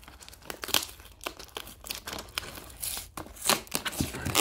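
Packaging tape torn and peeled off while a parcel is opened by hand, a run of close crinkling rips and crackles in quick irregular bursts with brief pauses between them.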